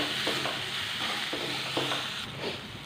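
Sliced onion sautéing in a pan over a medium flame, giving a continuous moderate sizzle with a few soft stirring strokes spaced through it, close and without voices.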